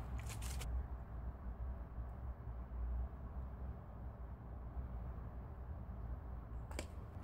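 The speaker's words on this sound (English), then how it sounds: "And I have a gold spray here." A few short hissing bursts of gold spray paint, one near the start and another near the end, over a steady low background hum.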